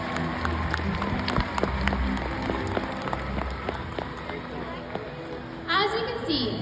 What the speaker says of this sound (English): let's give a round of applause to both of our volunteers